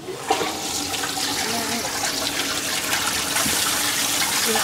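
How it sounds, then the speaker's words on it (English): A toilet flushing inside a converted airplane, a close gushing rush of water that starts suddenly and keeps surging for several seconds. "Just like a regular airline toilet."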